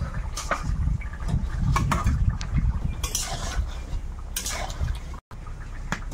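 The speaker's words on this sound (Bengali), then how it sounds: "মাছ দিয়ে একটু ফুটে গেছে, এখন জিরে বাটাটা দেবো।" Fish curry with papaya simmers in a pot, with bubbling liquid and clinks of a utensil against the pot, close and moderately loud.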